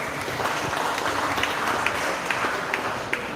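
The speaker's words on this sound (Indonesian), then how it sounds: "Tepuk tangan sekali lagi" Clapping from an audience at a pantun oration, a steady, fairly faint patter of hands with scattered sharper claps throughout.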